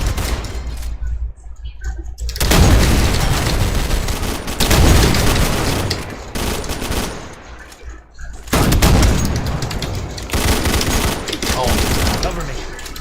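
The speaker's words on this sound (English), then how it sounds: "Stop shooting" Heavy video game gunfire comes in dense bursts of rapid shots, loud and close, with short quieter gaps between them.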